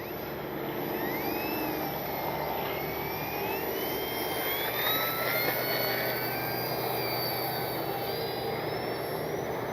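A small RC P-51D warbird model plane whines steadily as it takes off, its motor pitch rising and wavering over a constant outdoor background.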